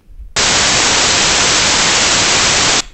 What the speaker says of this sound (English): The masker stimuli that we used for this experiment was either speech-shaped noise